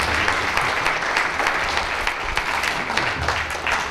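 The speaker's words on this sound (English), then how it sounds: "So a round of applause for Yossi Klein Halevi." An audience gives Yossi Klein Halevi a round of applause, a continuous, moderately loud crackle of many hands clapping together, steady across the whole stretch without talk on top.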